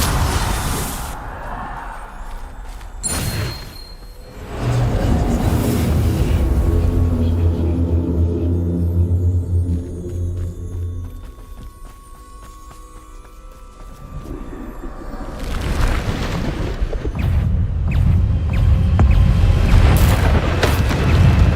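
Bombarda spell explosions in Hogwarts Legacy, a loud booming blast followed by long rumbling, crackling game effects, with more heavy bursts near the end.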